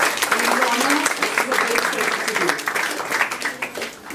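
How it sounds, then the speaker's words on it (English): Audience at a Goan Konkani fan fair concert gives a round of applause for a guest, dense clapping filling the hall while an announcer keeps talking over it. "Let's hear a round of applause from Mr. Andrew Norman, ladies and gentlemen."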